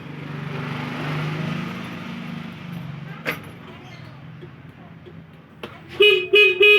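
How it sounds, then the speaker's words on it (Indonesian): Weak horn of a Honda Vario carbureted scooter with a starting fault, giving a few short faint toots near the end after low background noise and a brief knock. "klaksonnya itu juga bunyinya tidak terlalu keras ya"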